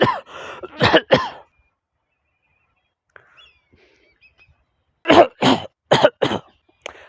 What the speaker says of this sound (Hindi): अरे भाई साहब मास्क लगा के खांसो ना